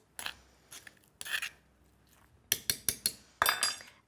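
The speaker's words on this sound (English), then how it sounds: "Now we'll just mix that in and have a spoon on hand just to scrape down the sides of the mortar and pestle." A metal spoon scrapes and clinks against a mortar and pestle while mixing pesto, with close rasping strokes and a quick run of sharp taps toward the end.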